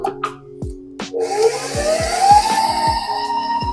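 An electric mixer beating cookie dough with vanilla extract, starting up with a rising whine and then running steadily, with rhythmic knocks from the beaters.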